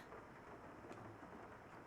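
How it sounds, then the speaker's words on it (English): Steady rain falls with a soft rumble of distant thunder in the Rain Code detective video game, a continuous faint wash of drops with no voices. "it's raining"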